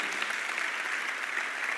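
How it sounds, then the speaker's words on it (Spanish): Church congregation giving applause to God, a soft, even wash of many hands clapping, moderately distant and continuous without a clear start or finish. "denle un aplauso a Dios"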